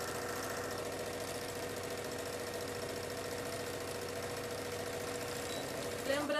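Steady, fast mechanical whirring from a sewing machine stitching a fabric doll part runs continuously at moderate level, ending in a brief louder clatter, with no talking.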